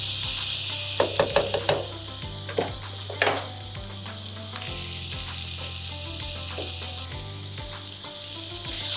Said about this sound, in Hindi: पास्ता ऐड कंदासीं, मिक्स कंदासीं ऐं असांजो चिकन टिक्का पास्ता जेको है उहो तयार थी पवंदो